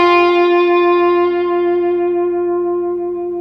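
Electric guitar from a song intro, here one sustained note ringing out and slowly decaying with reverb and echo, clean and close with no voice.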